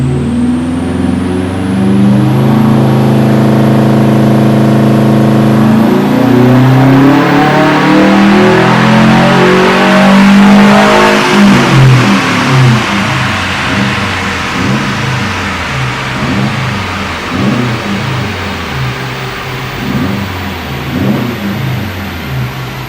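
A built 2006 Subaru WRX engine on a dyno revving at half throttle on low boost, the pitch climbing steadily before dropping back into a rough, pulsing drone; loud, close and continuous with no talk.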